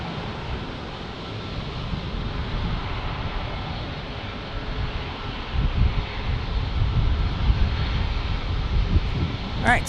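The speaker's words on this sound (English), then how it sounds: "this Southwest Airlines is headed to Sacramento" A Southwest Airlines jet rumbles at San Diego airport, a broad, steady roar with wind noise on the microphone that swells slightly toward the end, while someone talks over it.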